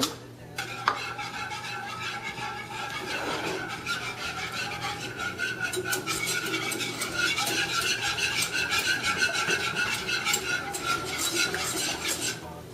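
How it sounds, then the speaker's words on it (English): A whisk beats half a cup of pure maple syrup into butter in a bowl for a sweet potato cupcake frosting, giving a steady, fast metallic clatter and scraping that runs on without pause. "whisk it in"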